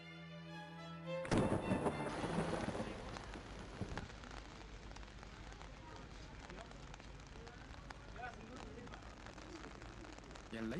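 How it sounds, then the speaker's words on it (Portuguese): Late-spring rain falls on mulberry trees in Jiangnan, a dense, continuous patter that takes over after a short musical opening and holds steady to the end. "As gotas de chuva estão caindo nas amoreiras do Oriente."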